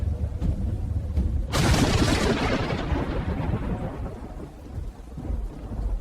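A thunderstorm rolls in with a sudden, loud crack of thunder that booms and slowly rumbles away over steady heavy rain, with no voices.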